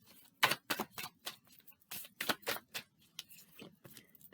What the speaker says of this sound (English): let's put them together, shuffle out 3, and see what we end up with